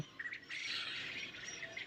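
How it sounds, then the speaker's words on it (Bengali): Japanese quail on a quail farm give faint, raspy squawking calls in a continuous buzzing stretch, somewhat distant, with no talk. "এটা হচ্ছে অরিজিনাল জাপানি কোয়েলটা"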